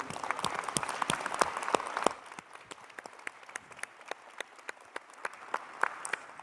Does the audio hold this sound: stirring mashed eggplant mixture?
no